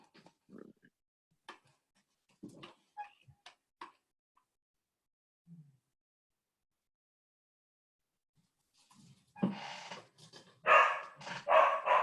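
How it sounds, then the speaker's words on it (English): A dog barks indoors, a few scattered short yaps fairly faint at first, then a louder burst of barking toward the end, with long quiet gaps between. "My dog's barking."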